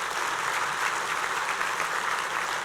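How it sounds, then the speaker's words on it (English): A breakfast audience claps in a big round of applause, dense and even, filling the room loudly and continuously for the whole stretch without anyone speaking. "Let's give them a big round of applause"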